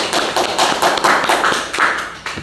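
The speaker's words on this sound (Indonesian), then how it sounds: "Beri aplaus untuk yang juara 1" A room of people applauds the first-place winner, with brisk, fairly close rhythmic claps that continue steadily and then fade.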